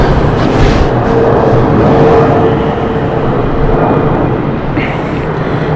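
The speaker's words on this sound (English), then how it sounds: "DHL is just above us, the beautiful A300." A DHL Airbus A300 passes overhead near London City airport, a loud, steady broadband engine roar that holds evenly throughout with no voices.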